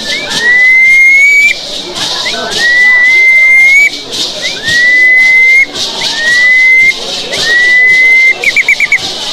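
An indigenous whistle imitates the call of the ani, a black bird. It gives five loud, close, upward-sliding whistled notes that level off and hold, evenly spaced, and ends with a quick fluttering trill.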